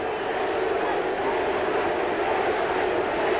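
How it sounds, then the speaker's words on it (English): Kiwi fans at a 1987 rugby league match against Australia roar in a dense, distant crowd wash that holds steady throughout. "And listen to the Kiwis. Listen to this crowd."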